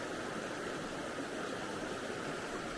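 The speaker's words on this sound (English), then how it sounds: "Something about running water is so soothing." A mountain stream near waterfalls in Arosa rushes with a steady, even hiss of running water that stays faint and continuous throughout.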